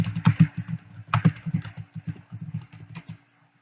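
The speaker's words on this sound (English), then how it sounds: "So I'm going to type in WordPress for beginners." Someone types a blog post title on a computer keyboard, a close, clear run of quick key clicks in an uneven rhythm for about three seconds before stopping.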